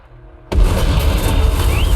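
Artillery shells landing in the War Thunder video game: after a brief quiet lead-in, a sudden loud boom erupts into a sustained, heavy rumbling roar of explosions that fills the rest of the moment.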